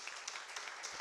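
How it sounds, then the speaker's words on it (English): Faint, steady applause from an audience at a public forum forms a brief, continuous wash of clapping with no distinct voices. "Another round of applause"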